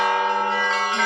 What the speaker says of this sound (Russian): Говорят, попасть под колокольный звон – это очень хорошо, это к добрым вестям и к доброму здоровью.